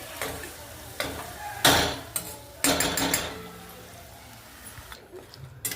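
Rustic Marathi mutton curry masala cooks in oil in a pot, with a soft steady sizzle under several loud stirring clanks and scrapes of a spoon against the vessel.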